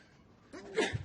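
A single sneeze bursts out near a council meeting microphone, a sharp breathy blast followed by a brief trailing sound, alone with no talk over it.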